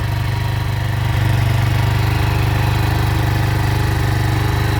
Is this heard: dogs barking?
no